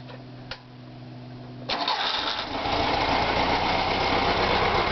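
A 1600cc Volkswagen air-cooled engine in a sandrail cranks and catches at about 1.7 seconds. It then runs steadily at a loud, close idle with a rough mechanical clatter, and no one talks over it.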